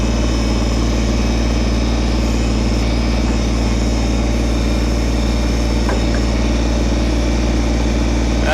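A Kubota BT602 backhoe's engine holds a loud, steady low idle-range drone while digging a trench into shale, constant and close with no talk over it.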